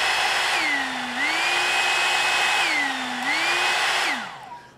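An Amazon hot air brush blows air with a steady whooshing hum, its motor pitch dropping and rising twice as the speed setting is switched between low and high, then winding down as it turns off.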